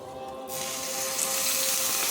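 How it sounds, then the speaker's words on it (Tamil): Tap water starts with a sudden gush and keeps running steadily into a sink while baby lima beans are washed for a noodle dish, close and fairly loud with no talking. "லிமா பீன்ஸ் எடு. நல்லா கழு. அதை வாஷ் பண்ணு."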